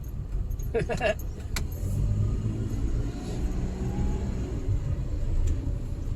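A minivan engine holds around 3,000 RPM while climbing a steep, rough mountain road, giving a steady low drone and cabin rumble with a few loose jingling rattles near the start.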